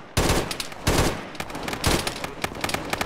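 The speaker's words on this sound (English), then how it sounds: "I'll shoot you quickly." Close, loud rifle fire in the video game Arma during a ShackTac squad session, a few sharp cracks followed by a rapid string of shots echoing over about three seconds.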